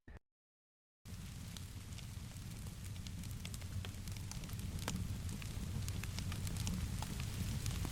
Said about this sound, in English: The rain fell with unwavering constancy upon the attic skylight, its gentle percussion forming a soothing backdrop to the evening's quietude